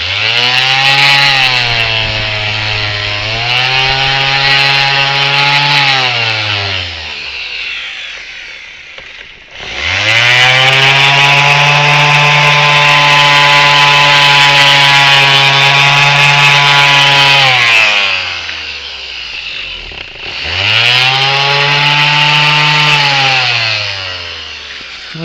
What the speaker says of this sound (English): I did the JB Weld trick on this. I'm going to sand it a little bit.